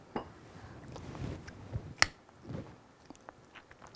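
Quiet, close chewing and biting during a taste test of foraged wild edibles, with soft crunches and a few sharp clicks scattered through an otherwise hushed space.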